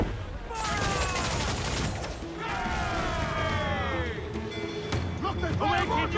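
Cannon and mortar fire crackle and boom in the Assassin's Creed: Black Flag video game, a dense rolling fusillade of blasts with whistling projectiles, mixed with game sounds and someone talking over it.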